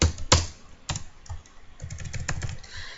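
Typing on a computer keyboard while writing Java code, heard close up as irregular clicks and taps with a few sharp louder strikes. No one speaks.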